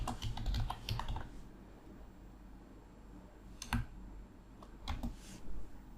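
Quick flurry of typing on a computer keyboard, several close clicking keystrokes at the start, then a pause and a few isolated key presses later on; quiet room, no voices.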